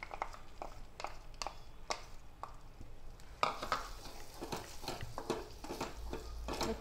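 Sweet corn kernels sizzle softly as they roast in a pan, a faint continuous crackle with scattered taps and scrapes of stirring that grow busier partway through.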